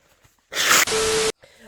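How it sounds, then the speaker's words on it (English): A sick person blows their nose, one loud, close burst of about a second split into two harsh honking pushes, with quiet before and after. "Well, I gotta blow my nose."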